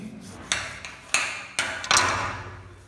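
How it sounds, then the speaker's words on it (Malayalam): A knife cuts through a lemon on a board, giving four sharp, separate knocks spaced unevenly over a few seconds, fairly close and with no speech. "അപ്പം നമുക്ക് നമ്മുടെ ചെറുനാരങ്ങ കട്ട് ചെയ്യാം."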